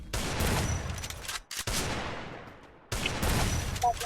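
Video game gunfire in rapid loud bursts, two dense volleys of shots with a brief gap between them and a short pause before a final burst, close and harsh.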